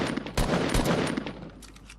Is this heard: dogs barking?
no